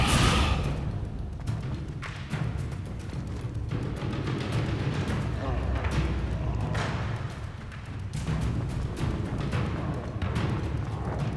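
Descendo spell in Hogwarts Legacy slamming a target to the ground, heard as heavy thumps and impacts amid dense game noise, with a couple of louder hits and a brief dip near the end.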